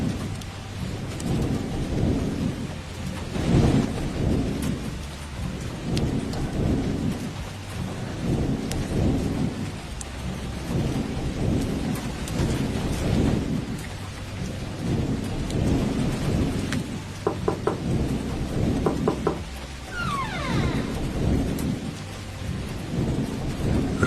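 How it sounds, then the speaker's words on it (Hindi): Heavy rain pours steadily while thunder rumbles repeatedly, rolling in deep, loud waves throughout. "इस तेज बारिश में"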